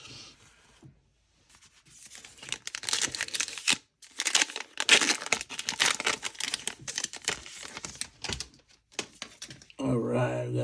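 Foil wrappers of Topps Heritage High Number baseball card packs are torn and crinkled open in bursts of loud rustling and ripping, with pauses between handfuls and a brief hum at the end.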